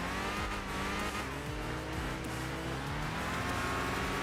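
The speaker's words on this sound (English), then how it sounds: "you can hear like the other vehicles on track as well when you go past them through like the hairpins and everything" Race cars in Enthusia Professional Racing roaring past through hairpins, with steady engine drone, passing sweeps and faint tire squeal throughout.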